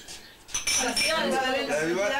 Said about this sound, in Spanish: Chinchín. Y chinchín para todos.